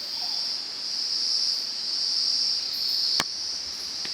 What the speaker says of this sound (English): We've got tons of cicadas singing right now.